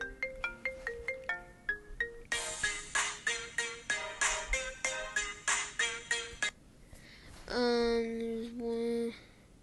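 A Super Mario ringtone remix plays from a phone, a string of bright, beat-driven melodic notes followed by a sustained electronic tone, loud and close with no talking.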